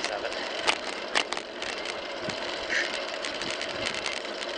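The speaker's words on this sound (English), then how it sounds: "There's just some specific sound. I don't know why I like this bike so much." A motorcycle engine runs at a steady, buzzy mechanical pitch that holds for the whole stretch, with a few brief clicks and rattles on top.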